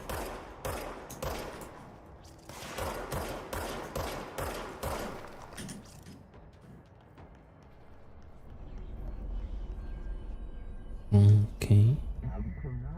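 Bursts of enemy gunfire in a video game, a rapid volley of shots early on, then a couple of loud close bangs near the end, with talk running underneath.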